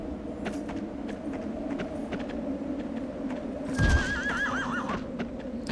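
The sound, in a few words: horse neighing in the video game Shadow of the Colossus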